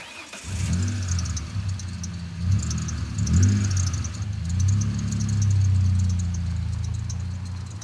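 A broken pickup truck's engine idles and runs in a low, rumbling drone with a few swells in revs, close and fairly loud, with no talking over it.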